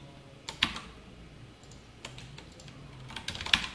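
Computer keyboard keys pressed in a few sharp, separate clicks, including a Ctrl+U shortcut, close and quiet with pauses between strokes and no speech.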